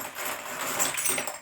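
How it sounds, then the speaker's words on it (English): Cleaned, rinsed brass cartridge casings for reloading being handled, giving a steady cluster of bright metallic clinks and jingles for a moment, close and moderately quiet. "take all these casings and lie them down to dry off"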